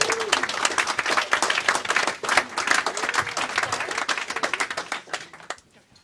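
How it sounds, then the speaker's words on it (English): A party crowd at a distillery launch in Lisbellaw claps in a lively round of applause, dense clapping with a few whoops and murmurs that stays strong before thinning out at the very end. "So give him a big round of applause."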